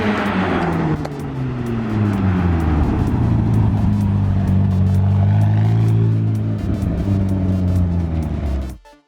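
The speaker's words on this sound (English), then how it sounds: "now we have the McLaren 720S joining us in this little BMW meet" A McLaren 720S supercar rolls in at a small BMW meet, its engine a loud, steady low drone that shifts pitch as it nears, holding close for about nine seconds before cutting off abruptly.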